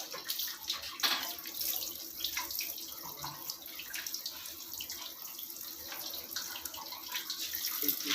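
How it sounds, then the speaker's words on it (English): Water draining through an extra pipe piece on a Livpure water purifier during flushing, a steady faint rush and trickle with occasional drips that continues evenly throughout, with no talking. "with the help of extra pipe piece, we have to drain water for at least 5 minutes."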